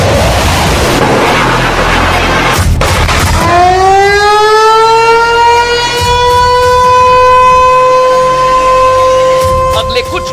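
A loud civil-defense air raid siren winds up from a low growl into a sustained, wavering wail that holds steady, with voices faintly underneath.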